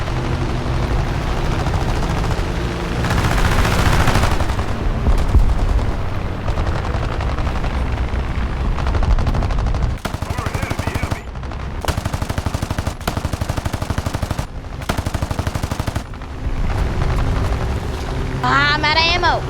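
Warplane machine guns fire in the War Thunder video game: loud rapid bursts stop and start over a constant engine drone, with repeated sharp gaps between volleys.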